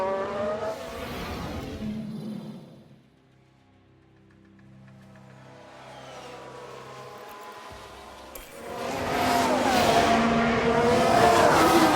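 A Formula 1 car spinning out in F1 Manager 2022, loud engine roar and tire squeal fading to a quieter lull, then surging back with a harsh rising skid and engine noise.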